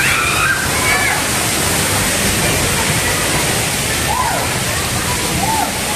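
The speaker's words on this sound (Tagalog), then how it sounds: "Ang taas ng falls." Tall waterfall at Mt. Isarog Natural Park, a loud continuous rushing roar close by, with a few faint bird chirps cutting through.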